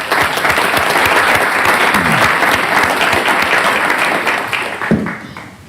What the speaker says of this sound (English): So one more round of applause for Mr. Cavambi.